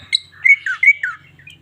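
A caged cucak ijo (green leafbird) calls up close, loud and clear: a quick series of bright whistled chirps and slurred warbling notes with nothing else behind them.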